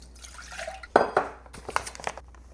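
Water splashes and trickles into a bucket, with clinks and sloshing in uneven bursts, close by and moderately loud.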